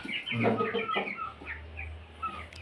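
A pure Punjabi fighting rooster gives a few short, nasal clucks close by, followed by quieter low rumbling and a faint tap.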